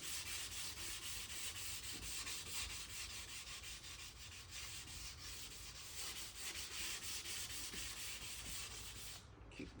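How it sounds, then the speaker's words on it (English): Steady rhythmic rubbing of sandpaper over a car body panel during dent and scratch repair, close and continuous for several seconds with no voices. "And then we gotta sand the whole thing down."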